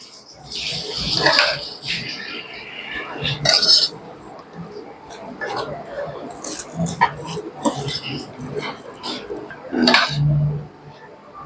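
Sweet dough for traditional kettii urundai, a Diwali snack, is stirred with syrup in a pan, giving scraping and clinking of a spoon against the pan in irregular bursts, with a voice talking over it.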